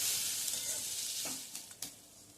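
Ridge gourd peel chutney sautéing over a medium flame, a soft sizzle with a few spoon scrapes and taps as it is stirred near the end.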